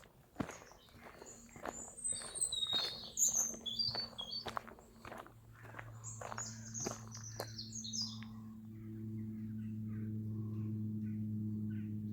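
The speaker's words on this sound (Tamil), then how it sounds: "குருவியல்கிட்ட சத்தம் தான் கேட்குது" Small birds chirp and tweet on a German nature walk, bright calls scattered over about eight seconds while footsteps crunch steadily beneath, then a low steady hum takes over as the chirps fade.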